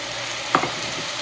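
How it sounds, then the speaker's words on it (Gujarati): Chopped onion tipped into a pan of browned garlic, giving a steady hot sizzle punctuated by one brief, sharp splash as the onion lands, with no talking. "ગાર્લિક બ્રાઉન થઈ ગયું એટલે એમાં નાખીશું ઓનિયન"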